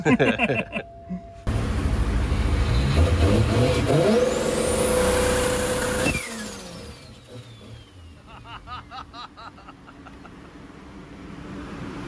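A turbocharged 2JZ engine on two-step launch control revs hard and holds at high pitch for several seconds, then drops off, followed by rough idling and crackling pops.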